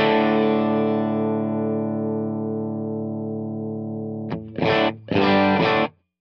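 A distorted electric guitar chord rings through a Fractal FM9 amp model with its tone knob turned far up, sustaining and slowly decaying before two short, loud strummed bursts near the end, alone with no voice.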